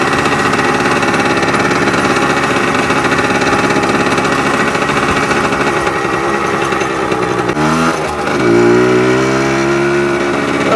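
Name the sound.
Yamaha DT 100 motorcycle engine idling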